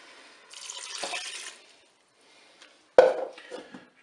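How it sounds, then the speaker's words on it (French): Broth poured into a Cookeo multicooker pot: a brief splashing pour lasting about a second, a pause, then a sharp metallic clink and some rattling, close and clear with no talking. "Je vais verser mon bouillon."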